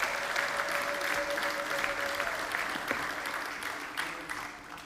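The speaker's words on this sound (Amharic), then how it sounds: "ለዚህ ጌታ እልልታና ጭብጨባ እንሰጠዋለን።" A church congregation applauds and ululates in praise during a sermon, a steady dense wash of clapping with a sustained high trilling cry riding over it, close and continuous throughout.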